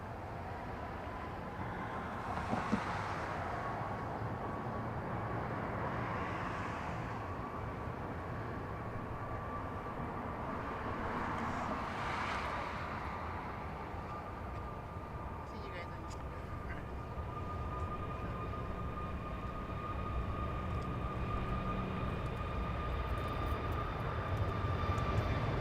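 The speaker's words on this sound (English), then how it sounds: "it looks like the Mexican 737 already clear for takeoff" A Mexican Boeing 737 takes off at LAX: a distant jet engine roar and whine builds steadily over about 25 seconds, with a sustained tonal hum and broad rumble, under faint talk.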